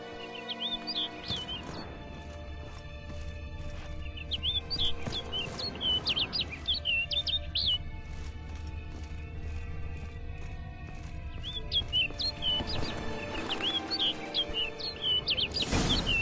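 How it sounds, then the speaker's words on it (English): Bird chirps ring out repeatedly in a PS4 game, bright tweeting calls in short bursts over a steady musical and ambient game soundtrack. "bird's leading me somewhere."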